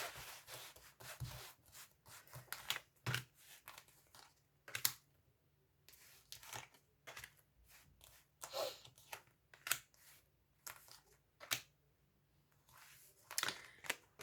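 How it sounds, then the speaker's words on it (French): Tarot cards spread across a table, giving repeated soft rubbing and sliding swishes with brief papery slaps, close and fairly quiet, continuing in irregular bursts with short pauses. "Alors, je vais étaler les cartes."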